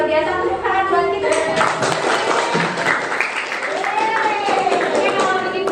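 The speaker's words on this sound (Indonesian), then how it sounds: "Tepuk tangan buat kita." A classroom of students claps together at the close of a lesson, brisk continuous applause with children's voices and chatter mixed in throughout.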